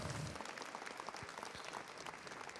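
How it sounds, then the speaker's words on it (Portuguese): A packed hall at a youth Baptist congress erupts in dense, steady applause from the audience, many hands clapping at once throughout and staying loud from start to finish. "Aplauda você. Um aplauso aí."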